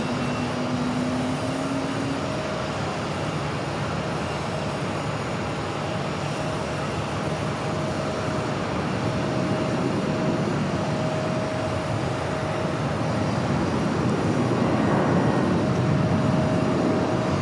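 Steady, loud jet engine roar at Phoenix Sky Harbor airport, a continuous broadband rumble with a thin tonal whine, swelling slightly near the end as an airliner powers up nearby; no talking.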